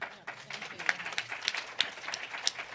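An audience applauds steadily at a women's convening event, a faint, even crackle of many hands clapping with no talk over it.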